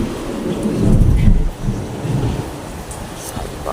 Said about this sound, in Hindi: मेरे से ज़्यादा इन बादलों की आवाज़ है